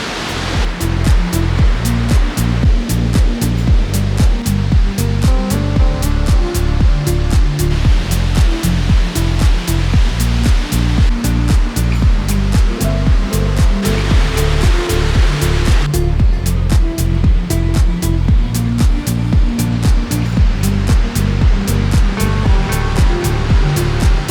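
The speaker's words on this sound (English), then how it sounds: "Prospect Point, where you can get a stunning view of all three of the waterfalls in Niagara Falls." Niagara Falls roars as a loud, constant wall of rushing water seen from Prospect Point, dense and unbroken throughout with no voices.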